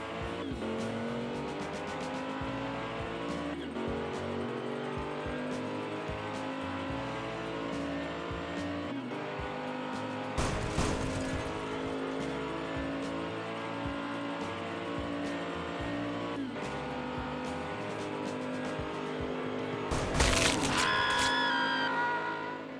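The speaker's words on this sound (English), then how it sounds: "We'll race those two against each other, see who wins and see who makes the bracket." Hot Wheels toy cars racing down a track in an elimination tournament, a steady dense rolling and whirring roar over the full stretch, with a couple of sharper clattering bursts near the middle and near the end.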